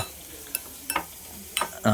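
Mixture stirred in a pan with coconut oil, a spatula scraping and clacking in four or five separate strokes over a faint, low sizzle, close by with no talking.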